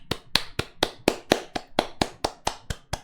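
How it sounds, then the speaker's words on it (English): Steady applause of several hands, sharp claps in a quick even rhythm, close and fairly loud with no talking. "Everyone give TangoBunny a clap."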